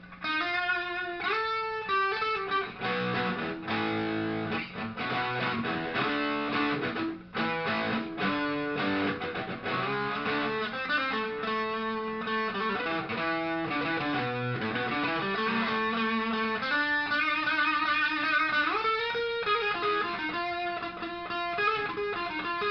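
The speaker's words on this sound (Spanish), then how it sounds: "probaremos para empezar el Super Overdrive. Para ver cómo se escucha" An electric guitar played through a Boss Super Overdrive pedal set to maximum distortion churns out sustained, heavily saturated chords and riffs, loud and continuous with no talk.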